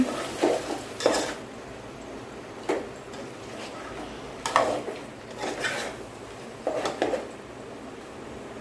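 A goat head curry is stirred in a pot, with a few spaced scraping and clinking strokes of a metal spoon against the pot over a quiet background hum.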